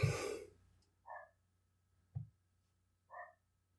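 A neighbor's dog in a nearby apartment gives a few soft, muffled barks spaced about a second apart, faint and distant in an otherwise quiet room.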